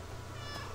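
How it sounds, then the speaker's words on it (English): A single short cat meow from the video game Stray, soft and close, sitting over a low steady ambient hum with no talk. "I'm just gonna keep meowing."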